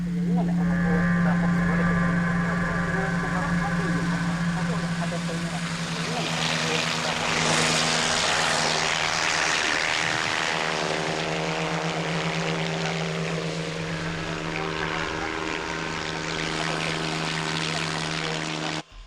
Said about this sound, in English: Maybe a chopper.